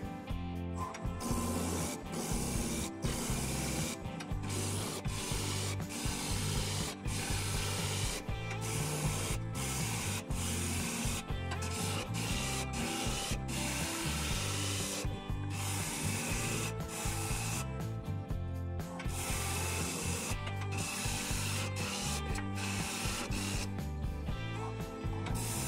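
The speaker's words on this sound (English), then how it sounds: "I'm going to be turning it at 1000 RPM using my spindle roughing gouge" A spindle roughing gouge rounds over a cedar blank spinning on a wood lathe at 1000 RPM, giving a steady, loud scraping and rubbing that runs unbroken for the whole stretch with no talk.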